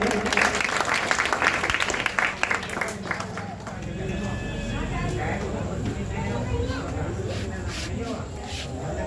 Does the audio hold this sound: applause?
yes